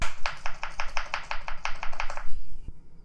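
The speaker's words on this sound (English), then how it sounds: "Just put it in a tap chop. Tap, tap, tap, tap." A Tap Chop chopper dicing an onion with about a dozen quick, evenly spaced plastic taps close by, stopping abruptly and followed by one faint click.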